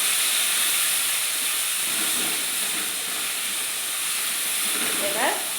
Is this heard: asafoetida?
yes